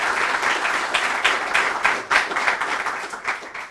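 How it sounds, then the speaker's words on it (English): An audience applauds dignitaries, including a state agriculture secretary and a senator, at a governor's economic announcement: brisk, fairly close clapping from a modest crowd, with individual claps standing out in an uneven rhythm throughout. "Let's give them a round of applause"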